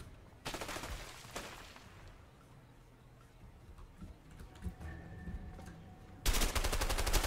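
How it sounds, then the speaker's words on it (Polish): Short bursts of rapid video-game gunfire, one near the start and another at the end, with quieter scattered clicks and shots in between. "Jako Leo dużo strzałów oddajesz w powietrze."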